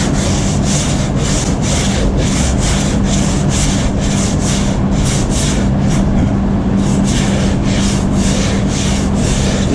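A sanding block rubs back and forth over a boat hull plug in steady rhythmic strokes, a continuous close, loud scraping pattern with no talk.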